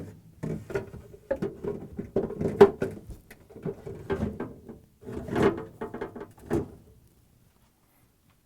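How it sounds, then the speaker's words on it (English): Frigidaire ice cream shelf being fitted onto the side rails inside a freezer, a series of plastic clicks, knocks and sliding scrapes in irregular bursts, close up, ending in silence. "let's bring the new ice cream shelf and we're going to install it"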